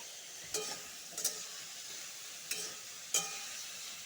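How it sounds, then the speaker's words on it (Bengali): Pointed gourd (potol) pieces coated with turmeric fry in oil with a soft, steady sizzle, faint and continuous, broken by a few light clinks of a utensil. "ভালো করে ভাজবো পটলটা ভাজা হয়ে গেছে"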